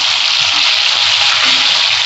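Silver carp sizzling loudly in hot oil in a pan after being flipped, a steady, dense, unbroken frying hiss throughout, with no talk.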